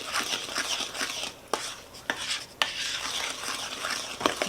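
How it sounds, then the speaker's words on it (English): Flour mixture and buttermilk stirred together for soft buttermilk sugar cookie dough, a steady scraping, mixing sound with a few sharp clinks of utensil against the bowl, close and fairly quiet, with no talking. "And give just a stir."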